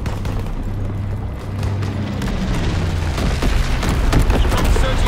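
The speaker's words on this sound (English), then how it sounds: "Enemy bomber. Incendiary bombs incoming." Incendiary bombs exploding in a combat video game make steady, heavy rumbling booms and bursts that build toward the end, with a low droning engine tone underneath and no talk.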